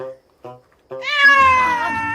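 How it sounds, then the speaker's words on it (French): A cat meows loudly and close by: three short, clipped meows, then one long, drawn-out wailing meow with strong harmonics, heard alone without other sounds. "Donc concentre-toi sur les miaulements."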